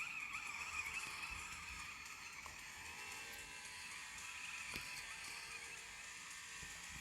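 A BMW drifts in the off-road racing game Off the Road 2, its tyres skidding in a continuous, loud screech with a steady engine roar underneath, sustained without a break throughout.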